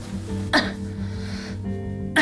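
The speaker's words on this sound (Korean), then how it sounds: "이 기침 심하게 하면은 안 돼." Two sharp, separate coughs from a young woman, heard close at home over a quiet, faint background hum.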